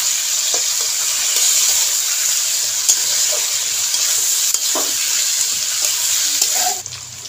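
Meat fries in a pan with a steady, loud sizzle from start to finish and a few faint stirring scrapes, then thins out briefly near the end.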